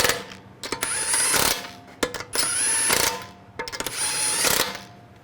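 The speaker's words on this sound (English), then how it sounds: "Snug these down." Ratchet wrench snugging lug nuts onto a Honda CR-V front wheel: three bursts of rapid clicking ratchet strokes separated by brief pauses, close and fairly loud, with no talking.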